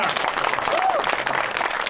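Audience applause at a no-rules fighting event, dense steady clapping filling the whole moment at moderate level, with a crowd murmur blended underneath.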